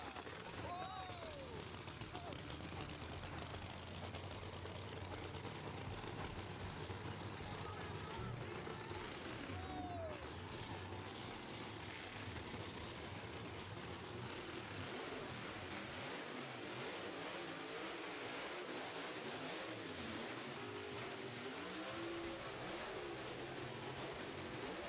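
Top Fuel dragsters fire up and rev at a nitro drag racing meeting, a loud, raw engine roar with sharp bursts and pops. Crowd noise and talk run underneath.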